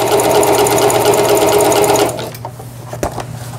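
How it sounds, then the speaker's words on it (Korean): A household Singer sewing machine runs a zigzag stitch, a loud steady rhythmic whirring for about two seconds before it stops, leaving a few faint clicks and handling knocks. "지그재그 바느질."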